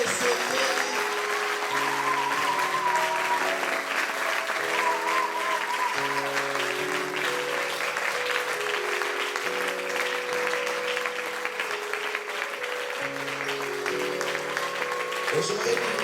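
Sustained applause from a church congregation fills the space, steady and dense for the whole stretch, with sung or chanted voices and music carrying over it.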